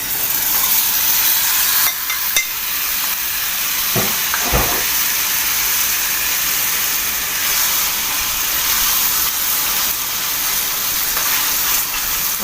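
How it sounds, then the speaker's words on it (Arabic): Chicken sautéing in a spoonful or two of oil in a pan, a steady bright sizzle and hiss that stays loud and continuous throughout, with a couple of brief clanks from stirring and no talking. "هنشوح الفراخ، حبة زيت كده قد معلقة او معلقتين"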